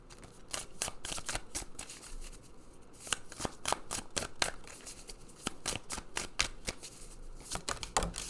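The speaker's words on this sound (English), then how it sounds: "I want to get a good shuffle." Tarot cards being shuffled by hand during an oracle card reading, a steady run of crisp riffling snaps and papery flutters close up, repeating throughout with no talking.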